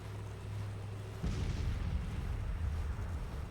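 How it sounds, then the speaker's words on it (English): Civil War artillery fire in the strategy game Grand Tactician: The Civil War during the Battle of Louisville: a low hum gives way about a third of the way in to a sustained, rumbling barrage of distant booms that continues to the end. "they're just breaking now because they were under artillery fire"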